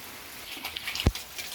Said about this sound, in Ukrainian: Ну, такі звуки, особливо влітку дощ.